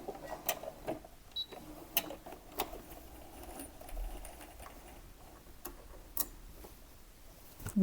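A domestic sewing machine stitches fabric for a Japanese-sleeve top, producing short bursts of ticking needle runs and clicks with pauses between, close and fairly quiet, without talk.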